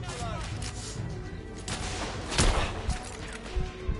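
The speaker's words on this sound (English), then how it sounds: "Who's shooting me?" Gunfire in the video game The Order: 1886: a dense, noisy barrage of shots with a louder burst partway through, heard close amid continuous combat din, with a voice talking over it.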